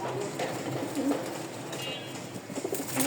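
Breeding pigeons cooing in soft low murmurs, several repeated coos close by against a faint background hum, with no talking.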